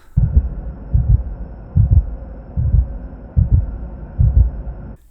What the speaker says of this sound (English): It's a heartbeat, which I cut to the edit.